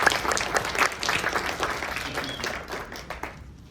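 An audience at a quiz-style event claps for a contestant coming down, a dense patter of applause that stays fairly loud and then thins out and fades near the end.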